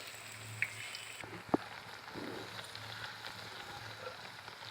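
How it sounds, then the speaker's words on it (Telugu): Rain falls outdoors, a faint steady patter and hiss with a couple of sharper drops or taps standing out, heard alone without talk. "వర్షం పడుతుంది కదా"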